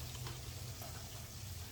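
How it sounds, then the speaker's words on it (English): Cornish hens deep-frying in hot oil with a flour coating give off a steady, soft sizzle, a continuous hiss with low bubbling underneath that stays quiet and even throughout, with no voices. "I don't know if y'all can hear that nice little sizzling."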